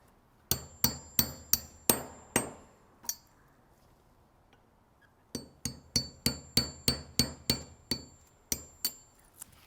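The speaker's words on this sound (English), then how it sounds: "then I use a push pin and standard hammer to remove the" A standard hammer striking a push pin to drive it out of a trailer jack gear, a run of about seven sharp metallic taps, a short pause, then about a dozen more evenly spaced close taps.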